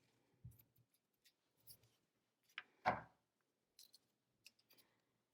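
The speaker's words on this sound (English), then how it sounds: "I'll use my scissors to cut off my piece." A few quiet snips of scissors cut through a length of embroidery floss, with light handling clicks and rustles around them against a near-silent background.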